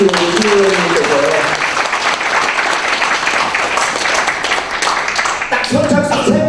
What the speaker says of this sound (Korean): 여러분 박수 한번 크게 보내주시고